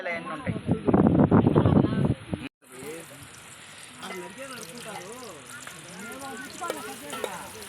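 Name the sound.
mustard seeds and green chillies frying in a pan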